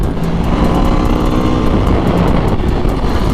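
An Aprilia RSV4 race bike engine roars loudly and steadily at high revs on the COTA track, a constant mechanical drone without pause across the whole moment.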